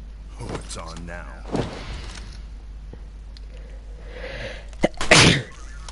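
A single loud, close human sneeze bursts out near the end, after a stretch of quieter talking and faint background noise.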